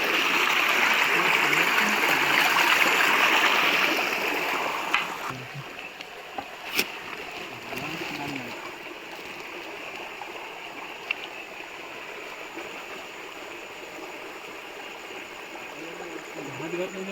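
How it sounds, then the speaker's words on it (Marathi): A flowing stream in Vareri village, Devgad, during the first monsoon rains, a bright rushing wash that is loud at first and then fades to a softer steady flow, with people talking nearby. "पाणी"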